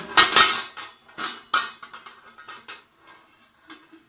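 Clattering metal clanks of a cooking pot of masala being lifted off a high flame and set aside while making restaurant-style chicken biryani, a cluster of loud knocks followed by softer, sparser clinks.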